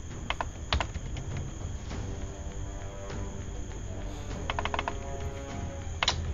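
Computer keyboard typing with scattered clicks and short bursts of keystrokes over a steady background hum; no one speaks.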